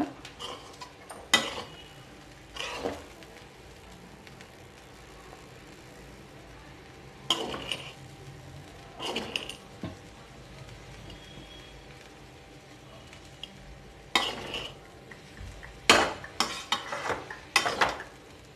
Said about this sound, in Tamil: நல்லா சாஸ்லாம் மிக்ஸ் ஆகிற மாதிரி கலந்துக்கோங்க